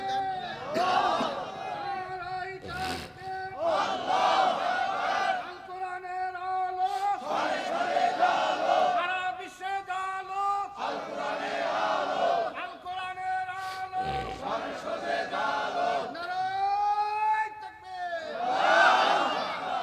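A large gathering of men chants the takbir slogan in loud, repeated unison calls with a strong, sustained tone. Crowd voices rise and fall in waves across the whole stretch, close and forceful.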